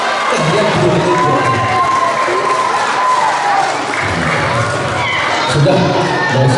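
An audience at an Islamic student organisation's opening ceremony in Makassar breaks into applause mixed with cheering and shouting, a dense, steady crowd roar filling the whole stretch without pause.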